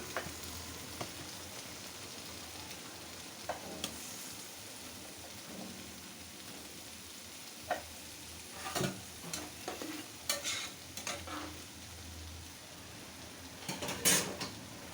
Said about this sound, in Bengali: এখন শাকটা একটু নেড়ে দিব